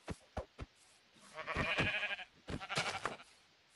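Sheep in a survival video game bleat in several short, clear calls, a few quick bleats followed by longer wavering ones, close and fairly loud with no talk.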